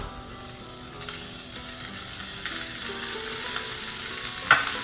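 Tomato sautéing and being stirred in a pot for a lentil soup, a steady low sizzle with soft scraping stir strokes and a brief sharper clink near the end.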